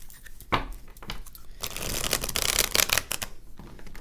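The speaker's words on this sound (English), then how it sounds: "So they riffle shuffle beautifully." Tarot deck being riffle shuffled, a quick sharp snap followed by a dense run of fluttering card riffles and a bridging finish, close and clear with no voices.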